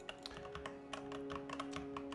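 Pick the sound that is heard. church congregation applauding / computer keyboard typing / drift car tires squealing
computer keyboard typing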